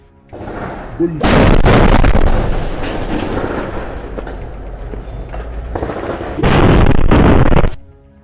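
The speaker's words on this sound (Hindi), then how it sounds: "इसके बाद आईडीएफ के रास्ते में लगे एक बूबी ट्रैप को भी उड़ा दिया जाता है, जिसकी चपेट में आईडीएफ का एक टैंक आ जाता है।" A booby trap detonates against an IDF tank in combat in Jabalia, Gaza, sending out a loud, sustained explosive roar with rumbling debris and then a second powerful blast burst near the end.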